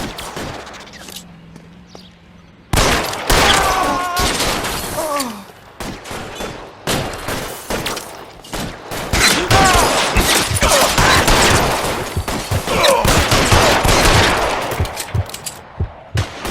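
Suppressing gunfire in the LA Noire video game: after a quiet start, loud sustained bursts of automatic and rapid shots crackle and echo almost without pause.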